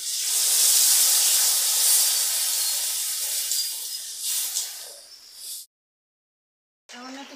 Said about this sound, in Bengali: ভালো করে চিংড়ি মাছ কষাই করে দিয়েছি। এবার দিয়ে দিলাম গরম জল।